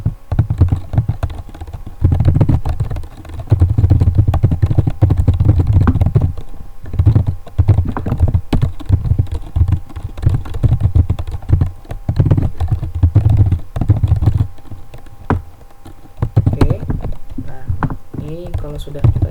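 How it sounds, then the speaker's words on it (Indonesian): Typing on a computer keyboard while working in a Linux terminal, a steady run of close, light key clicks under continuous talking. "kita ketikkan di sini contoh saja"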